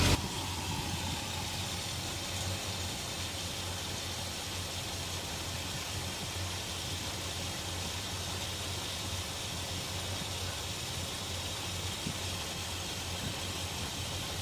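A classic car engine idles steadily during carburetor adjustment, a constant mid-pitched rumble at close range with no talking over it.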